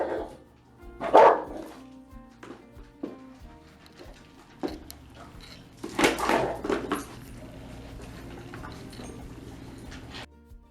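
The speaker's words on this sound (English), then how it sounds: "he lowers his body over the bowl, growls, and eventually bites the hand" A dog guards its food bowl during a canine behavior assessment. Sharp vocal bursts mix with the clatter of a metal bowl, scattered over several seconds at moderate loudness.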